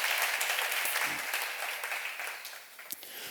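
A church congregation at a Korean Bible seminar claps together in steady, dense applause that fills the room and carries on for the whole stretch, with no clear speech over it.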